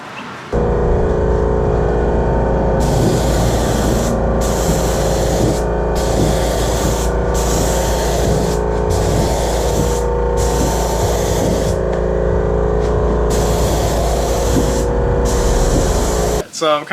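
A spray gun laying primer on a Toyota Cressida drift car in a garage, a loud continuous hiss broken into repeated bursts by short pauses, over a steady low compressor-like drone.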